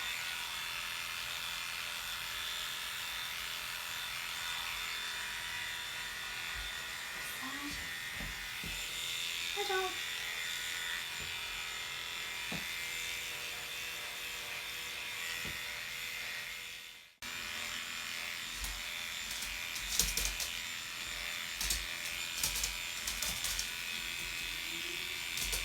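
Electric clippers trim a Havanese dog's coat with a steady, close buzz that runs throughout, briefly dropping out partway and then resuming, with faint sounds of handling over the hum.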